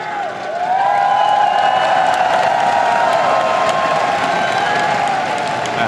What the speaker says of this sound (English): The crowd in there going crazy.